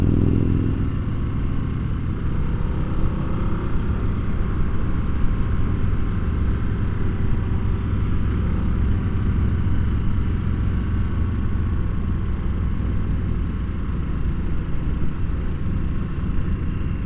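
A 2022 Harley-Davidson Nightster engine labors in fifth gear at low revs while riding, giving a steady, close, loud rumbling drone with wind noise that holds evenly throughout, no voices over it.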